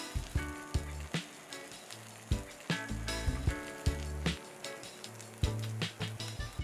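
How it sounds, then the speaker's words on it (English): Garlic bread slices crisping on a hot skillet give a steady sizzle with repeated light crackles and taps throughout, set beneath background music. "On a hot skillet, I am putting to toast all the slices until they are crisp and slightly"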